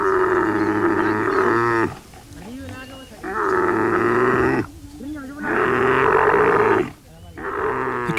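A camel grunts in long, deep, rumbling bellows after being bled, and is then turned out with the herd. The calls come close and loud, with a narrator speaking in the pauses between them.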